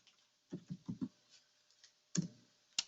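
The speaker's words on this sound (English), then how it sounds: "As I start typing in a person's name," Keystrokes on a computer keyboard while entering a name into a score page: a quick run of four close taps, then two isolated clicks, fairly faint with no talking.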